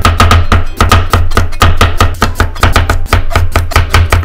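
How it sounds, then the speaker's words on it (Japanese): A kitchen knife chops carrot into thin julienne strips on a cutting board for potato salad, a rapid, steady run of close, crisp strikes with no talking. "人参も千切りというか、そんな感じで使ってもらえればいいかなと思います。"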